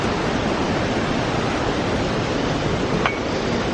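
Constant broadband rush of Bomod-ok Falls, a waterfall in Sagada, heard loud and steady from nearby with no voices over it.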